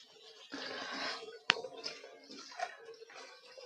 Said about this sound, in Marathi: थोडस पाणी टाकून घ्यायचंय याच्यामध्ये